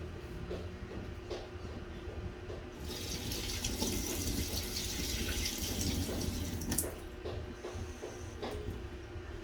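Tap water running into a sink to change paint-rinsing water, a bright steady splashing stream that swells for a few seconds in the middle over a constant low room rumble.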